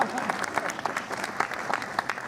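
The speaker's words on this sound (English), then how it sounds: "big clap for them" An audience at an event applauds the stage runners with a dense, steady round of clapping from a crowd.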